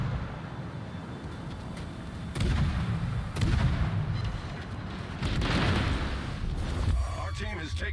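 Ship guns fire in a naval battle video game, with dense booming salvos and rumbling blasts layered over a steady battle din, loud and close, and a voice talking over parts of it.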